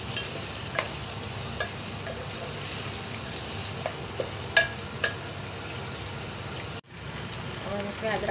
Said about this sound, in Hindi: तो इसमें गोश्त शामिल कर रहे हैं, फ्राई कर रहे हैं ताकि इसका कलर चेंज हो जाए